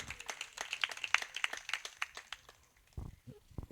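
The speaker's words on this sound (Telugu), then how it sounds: "చప్పట్లు కూడా దేవుని మహిమపరచండి." Church congregation clapping in praise during a sermon, a steady patter of hand claps at moderate distance that thins out and fades toward the end.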